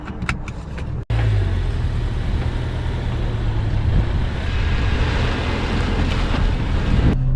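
A Subaru Outback pulls away and cruises on the road, a steady rush of engine, tire and wind noise from inside the cabin after a brief thump at the start.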